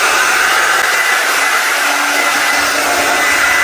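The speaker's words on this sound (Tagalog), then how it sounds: "It's a blow brush, so let's plug it in." Blow-brush hair dryer running alone, a loud, steady airy whir that holds even throughout, close up with no other sounds.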